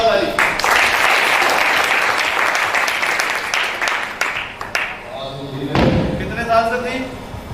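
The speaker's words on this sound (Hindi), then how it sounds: "सर के लिए जोरदार ताली।" Audience applause at a seminar hall meeting, loud dense clapping for several seconds that thins and fades, followed by a few thumps and voices talking.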